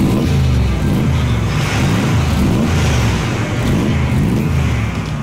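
A 6.6-liter car engine revs hard and loud at close range in a continuous run, its deep note climbing and dropping in repeated surges for several seconds.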